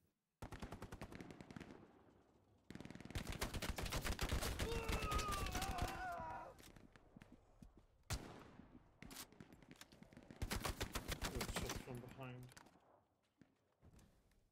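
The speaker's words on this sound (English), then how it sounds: "There's an MG behind the point, just killing everyone." Machine gun fire in the World War II shooter Hell Let Loose comes in several long, rapid bursts separated by gaps, crisp and fairly close, with a player talking over parts of it.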